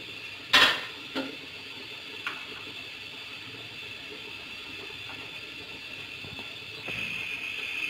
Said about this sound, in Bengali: ঢাকনা দিয়ে কিছুক্ষণের জন্য একটু ঢেকে দিলাম।